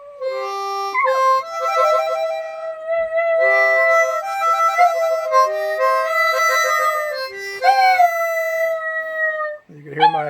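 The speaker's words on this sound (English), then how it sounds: "You can hear my dog singing in the background here." A dog howls in long, wavering tones along with a harmonica being played through most of the stretch, the two voices overlapping closely and loudly before a brief drop near the end.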